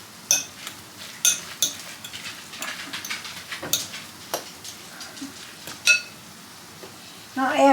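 Salmon patty mixture being stirred in a bowl, with irregular knocks and scrapes of a utensil against the sides, fairly close and unhurried, and no talking.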